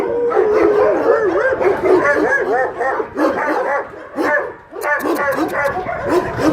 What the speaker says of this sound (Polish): Dużo większe psy.